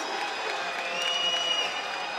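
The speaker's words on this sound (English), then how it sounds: "Crowd doesn't like it." Basketball arena crowd during a men's college game rumbling with steady, dense noise after a goaltending call, a sustained mass of voices and scattered whistles with no distinct break across the moment.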